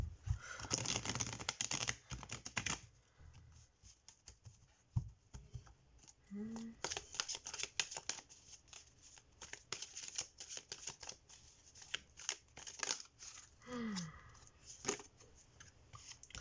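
Tarot cards are shuffled by hand during a love reading, a close, papery riffling in quick bursts with pauses, and a quiet voice talking in between.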